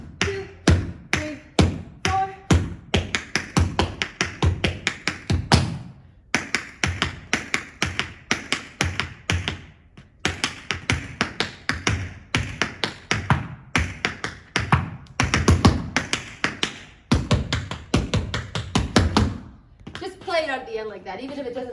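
Tap dance combination of rapid metallic toe and heel taps, dense rhythmic bursts with brief pauses, close and loud, ending in a short flurry.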